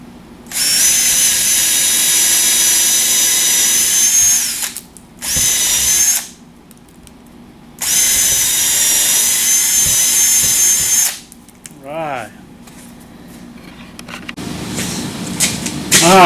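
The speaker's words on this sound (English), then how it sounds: "Alright, we're going to drill these holes." A power drill bores holes for a swivel TV wall mount in several long sustained whining runs separated by pauses, loud and close, with brief shorter bursts and handling noise near the end.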